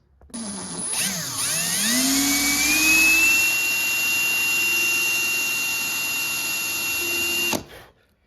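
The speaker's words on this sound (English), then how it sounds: "I got the hole in the back drilled through" An electric drill bores a hole through a wooden spinnerbait lure body, a steady high whine that rises and holds for about six seconds before cutting off, loud and close with no talking.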